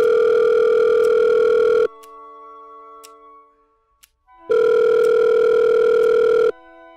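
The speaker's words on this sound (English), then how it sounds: "She picked up the phone after only a couple rings." A telephone ringing tone sounds loud and close in two long steady bursts, each around two seconds, with a quiet pause between them and no talk.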